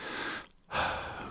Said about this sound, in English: It's good to hear somebody breathing.